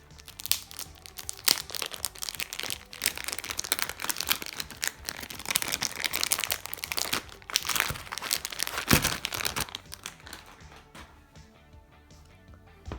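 Plastic wrap being torn and peeled off a YJ MGC 7x7 puzzle cube, dense crinkling and crackling that continues for several seconds, then tapers into quieter rustles.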